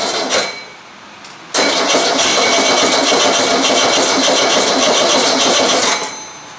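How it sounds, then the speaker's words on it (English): Old Volkswagen engine cranking on a cold start after years of sitting, throttle held open, giving a loud, sustained rattling churn for about five seconds before dying away. "hold the throttle open, see if I can get it to run. See how that works. Give it a little open throttle."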